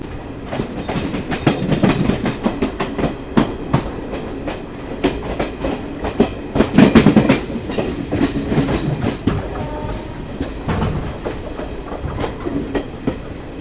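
Interior rumble of the New Delhi–Ranchi Garib Rath Express with ICF coaches running on rails, a steady rhythmic clickety-clack of wheels over rail joints with louder passing bursts, continuous and close with no talking.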